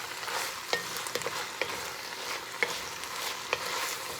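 Sausage frying in a pan for Cajun pastalaya, a bright steady sizzle close up with a handful of sharp clicks and scrapes from stirring spaced through it, no voices.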